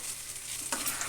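Garlic tempering in hot oil for a sesame gongura chutney, a soft steady sizzle with a sudden louder burst of crackling partway through, close and alone with no voices.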